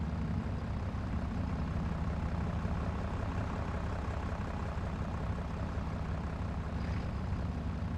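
Tractor engine in a farm simulator video game, a steady low idling rumble held at even loudness throughout, with no talk.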